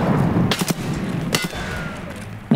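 Gunfire rings out in the video game Escape From Tarkov: a couple of sharp shots crack close together, followed by another report a moment later, each trailing into faint echoing room noise.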